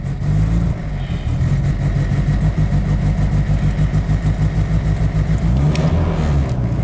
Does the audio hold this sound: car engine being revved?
yes